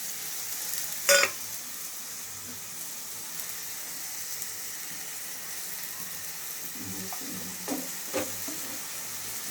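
Whole spices such as garam masala, cardamom and bay leaves frying in a pan, a soft steady sizzle close by with a sharp clatter near the start and some faint stirring later.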